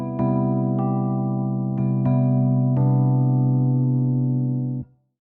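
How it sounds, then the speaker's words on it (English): A warm Rhodes-style electric piano patch from Keyscape, the LA Custom Warm, plays a few sustained chords with soft attacks that ring out and then stop, alone and close. "It's called Rhodes LA Custom Warm"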